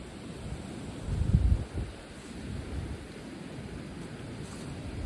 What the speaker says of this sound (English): More of these strong winds of 40 plus miles an hour.